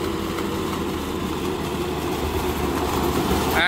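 A John Deere 5405 CRDI tractor pulls a GS Rhinocer Series V rotary tiller through a banana field, making a steady, even, close engine drone with a churning rumble and no letup.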